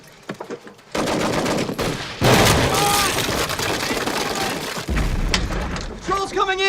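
Sustained gunfire and bursts of machine-gun fire with booming blasts in a war film battle scene, loud and continuous for several seconds, with shouted voices mixed into the din.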